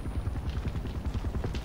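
A helicopter flies in the video game Far Cry 4 as a village burns, its rotor giving a steady, low, rhythmic chopping thump at moderate distance that carries on unbroken.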